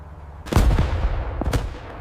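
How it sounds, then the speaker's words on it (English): Gunfire and explosion sound effects in a World War II battle scene: two sharp, heavy bursts with a booming low rumble, the first loud and the second about a second later, each trailing into decay. "The sounds of constant gunfire and explosions grew less frequent."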